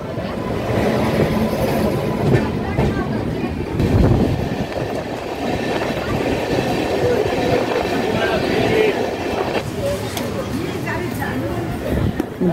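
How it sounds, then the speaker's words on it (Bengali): A train rolls along the rails with a steady rumble and rhythmic clatter, heard from inside a carriage as people talk nearby, on the Kolkata to Bhubaneswar line between Balasore and Bhadrak. "খুব সুন্দর ট্রেন চলছে, একদম পারফেক্ট টাইমে"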